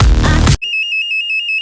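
A bedside co-sleeper crib alarm rings in a repeated electronic beep pattern, a thin steady tone pulsing about eight times, clear and alone after a brief burst of talk.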